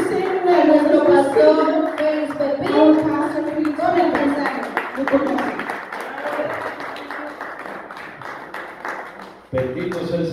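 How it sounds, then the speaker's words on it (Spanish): A church congregation claps and cheers together, loud and full, with singing voices and talk mixed over the clapping. "vamos a darle un fuerte aplauso al Señor."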